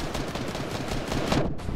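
Fortnite gunfire rattles in a fast, dense string of shots, loud and close, filling the whole moment without speech.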